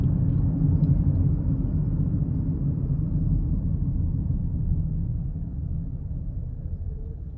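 A 2024 Nissan Rogue S with a 1.5-litre turbocharged three-cylinder engine drives along, giving a steady low cabin rumble of engine and road noise that slowly eases over several seconds, with no talking.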